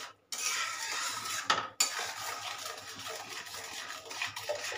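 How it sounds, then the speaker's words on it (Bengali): A spoon scraping and stirring grape barfi syrup in a pan, continuous close metallic scraping with a brief pause partway, no talking. "এবারে এটাকে নাড়িয়ে নাড়িয়ে আমি বেশ করে পাক তৈরি করব"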